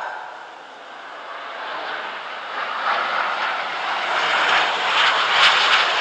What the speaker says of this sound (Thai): อยู่ตรงทางขึ้นลงเครื่องบินนี่เนาะ